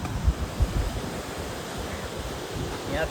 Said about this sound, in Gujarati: તો આ છે ભાઈ મેંગ્લોરનો દરિયો